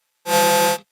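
A harsh, buzzy sub-oscillator tone from a Bastl Softpop 2 synthesizer patched with a modular system sounds once for about half a second, loud and rich in overtones, then cuts off.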